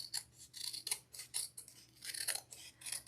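Scissors snip through the felt brim of a no-sew Pilgrim turkey hat craft in a quick, even series of crisp close cuts, about a dozen in a row, quiet and without talking.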